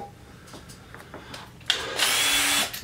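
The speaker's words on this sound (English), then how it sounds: "So then what we have to do is drill in holes, breathe holes." A power drill bores breathing holes into a plastic mealworm farm container, one short loud whirring burst close by after a few quiet handling taps and clicks.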